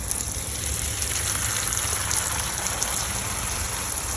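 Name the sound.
water spray rinsing front door after cleaning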